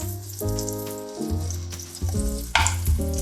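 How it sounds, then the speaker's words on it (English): Chopped onion and meaty bacon frying in a pan with added lard, with a loud steady sizzle along with a low tonal hum and occasional sharper stirring scrapes, no speech. "Now I'm going to fry it a little more so it melts as much as possible."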